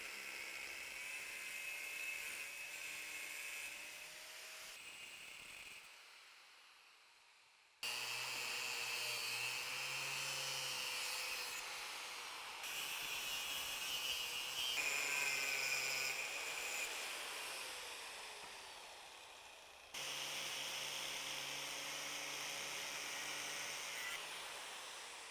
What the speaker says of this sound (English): we're going to use a cutoff wheel